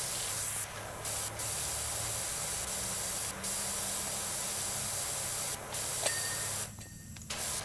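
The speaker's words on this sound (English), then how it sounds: "Super spray the computer." A pressure washer sprays steadily in PowerWash Simulator 2 while cleaning a roller disco computer, a continuous loud hiss with brief gaps where the jet stops and restarts, no talk over it.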